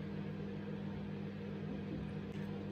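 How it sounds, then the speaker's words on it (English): An old, rusting microwave oven runs with a loud, steady low hum and buzz, continuous and close, with nothing else over it. "My microwave is old and loud."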